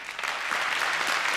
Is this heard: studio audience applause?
yes